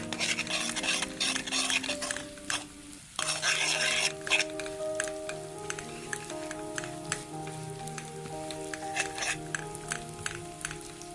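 Bubbling sizzle of edible gum frying in hot ghee for panjiri, with a spoon stirring and scraping against a metal pan, close and busy throughout.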